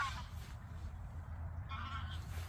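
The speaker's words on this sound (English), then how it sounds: "some Canadian geese coming in" Canada geese honk as they fly in over a lake on a carp fishing farm, a few calls rising faintly over steady low background rumble and wind.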